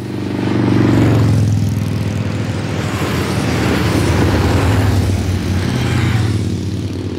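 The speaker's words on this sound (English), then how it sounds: "So we would record motorcycles." Motorcycle engines blended with a buzzing dragonfly, used as a biker-gang sound for grasshoppers in an animated film, a steady loud droning roar with a low rumble that holds throughout.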